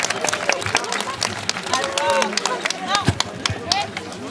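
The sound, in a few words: audience applause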